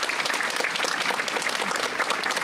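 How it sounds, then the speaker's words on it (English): Graduation ceremony audience applauding steadily, a dense wash of clapping hands throughout, loud and continuous with no voices standing out. "we'll clap."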